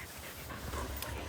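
A dog pants steadily, close by and fairly faint, during a horseback trail ride alongside a six-year-old dark bay Missouri Fox Trotter gelding.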